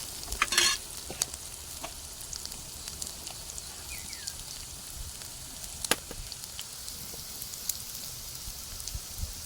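Potato pieces are stirred into fried ginger paste in a pan, giving a soft continuous sizzle with scattered scraping clicks and a brief louder clatter near the start.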